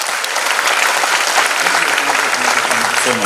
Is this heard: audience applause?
yes